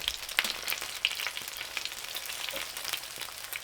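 Chicken dumplings frying in oil in a pan, a steady close sizzle with crackling pops throughout and no voices.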